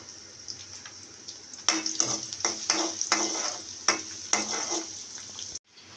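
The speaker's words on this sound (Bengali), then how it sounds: "এখন এই অবশিষ্ট তেলের মধ্যে আমি দিয়ে দিব একটা বড় রসুন, আমি কুচি করে কেটে নিয়েছি, আমি দিয়ে দিব এখানে। রসুনটা একটু হালকা ভেজে নিব।" Chopped garlic sizzling lightly in leftover oil, a steady close frying hiss broken by repeated stirring scrapes, ending abruptly.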